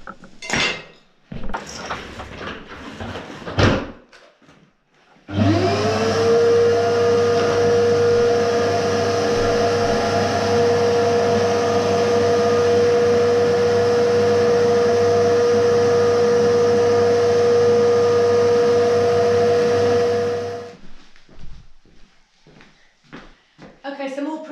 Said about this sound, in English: So the next stage now is to hoover out all the gaps